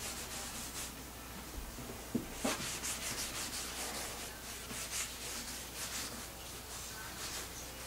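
Steady cloth-like rubbing and wiping across a tinted painting canvas board, a continuous soft scraping texture with a couple of sharp taps near the middle, heard up close and alone.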